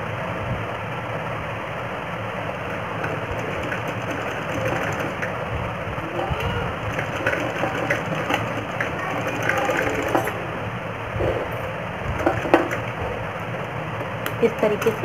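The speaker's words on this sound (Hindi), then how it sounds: "इसे हमें बराबर करते हुए इसमें सिलाई लगा देनी है यहाँ पर।" A sewing machine stitches a baby pant, its motor whirring steadily with irregular mechanical clatter and bursts of needle action, heard up close with room noise and some talk mixed in.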